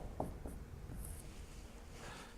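Chalk or marker tapping and scratching on a board as formulas are written during a quantum mechanics lecture, a few faint taps followed by soft strokes in a quiet room.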